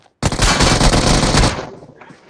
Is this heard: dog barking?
no